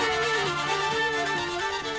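A hurdy-gurdy (vielle) drones and plays a lilting three-beat bourrée, the steady buzzing drone sustained under a repeating melodic figure with evenly spaced rhythmic accents, close and full.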